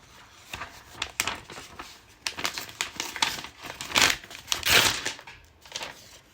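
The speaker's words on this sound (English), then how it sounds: "Fold it once, you fold it twice" A sheet of paper is folded and handled close up, giving a run of crisp crinkles and rustles in irregular bursts, louder toward the end.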